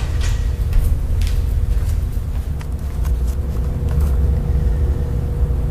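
A car engine idles with its exhaust patched by a temporary aluminum sheet muffler, a steady low rumble that stays even and close throughout, with no one speaking.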